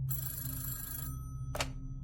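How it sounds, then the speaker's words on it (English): A telephone bell rings once in a podcast sound effect, a bright sustained trill that cuts off abruptly, followed by a short separate burst, over a steady low hum. "Phillips's phone rang and he answered it."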